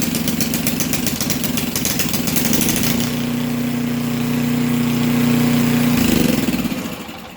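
A cold snowblower engine runs rough with the choke turned off, its steady low drone surging and faltering unevenly up close, growing louder before dropping off at the end.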